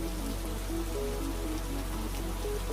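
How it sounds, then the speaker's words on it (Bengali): Steady, continuous rain falling in a Bengali cartoon, a dense even hiss of drops with no pauses and no voices, with faint tonal sounds running underneath. "এরপর একটানা বৃষ্টি হতে লাগলো"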